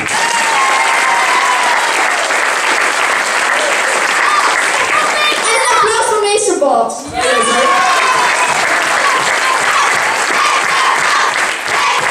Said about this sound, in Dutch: dus applaus voor meester Elko